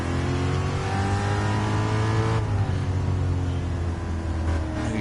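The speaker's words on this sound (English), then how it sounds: "how he's racing the GT3 BMW at Nürburgring." A BMW GT3 race car in Gran Turismo 7 at the Nürburgring sustains a loud, steady engine drone with rising and falling revs. It sounds close and continuous, with no talk over it.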